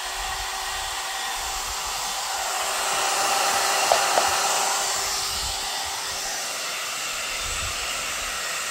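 Hair dryer styling tool from a Temu haul blows in a steady, loud, continuous whoosh close by, swelling slightly midway, with a couple of faint clicks and no talking.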